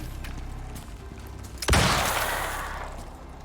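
A single sharp gun blast in the open-world survival game Icarus, set against low background game noise, with a loud burst and a decaying rumbling tail after it.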